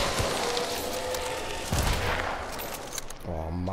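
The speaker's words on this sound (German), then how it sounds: "Ein Schuss." A gunshot in the video game Hunt: Showdown cracks and echoes amid dense game noise, followed by a softer rumble and brief voice-like tones near the end.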